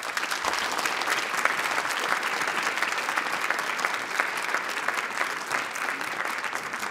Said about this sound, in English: Can we give another round of applause to all our performers and our award winners so far?